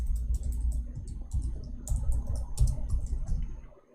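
Rapid typing on a computer keyboard, with a continuous patter of light clicks running for several seconds at moderate volume over a low background rumble, then tapering off at the end, with no voices.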